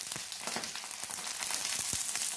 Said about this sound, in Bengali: এভাবে হালকা করে এগুলোকে ভেজে নিতে হবে।